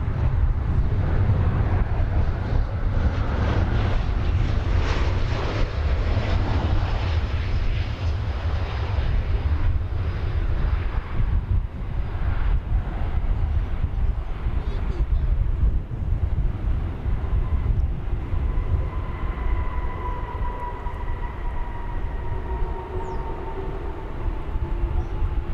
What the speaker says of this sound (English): Comes the Aeromexico flight.